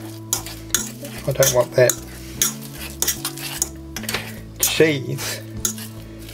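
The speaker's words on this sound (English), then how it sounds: "Now I'm just going to mix that through quickly with a fork" A fork mixes mashed potato seasoned with ground black pepper in a bowl, giving repeated close clinks and scrapes against the dish, while a person talks over the clatter.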